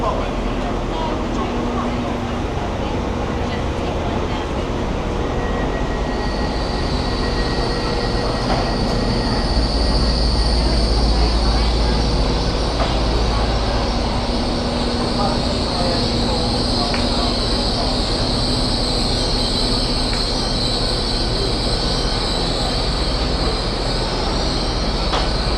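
A busy train rolls along the line between Cardiff and Westbury, giving a loud continuous rumble with long high-pitched wheel squeals that rise and hold over the noise.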